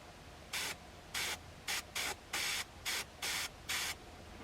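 Airbrush spraying paint onto a flocked mallard drake decoy, heard as eight short hissing bursts of even length separated by brief pauses, close and clear against quiet background hiss.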